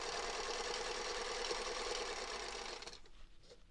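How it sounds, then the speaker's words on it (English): A sewing machine runs steadily and close while chain stitching quilt block fabric pieces together, a continuous whirring hum that slows and stops near the end. "So we're going to chain stitch those all together right now."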